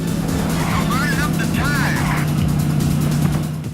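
A car engine roars steadily in a Sega Saturn driving game, with a droning motor tone, occasional rising whines and tire squeals, while someone talks over the gameplay.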